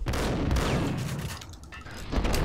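Close gunfire in the Max Payne video game, including a shotgun-wielding enemy in a tight corridor, dense and loud shots filling the clip with a short dip before another blast.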